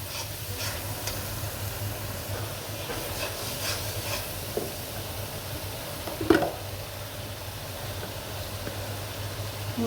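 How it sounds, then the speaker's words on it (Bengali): Blended onion fries in a pan for beef kofta curry, a steady, soft sizzle and hiss broken by a few faint stirring clinks. "আমি এখন ব্লেন্ডার করা পেঁয়াজটা দিব। এটাও আমি ভাজবো।"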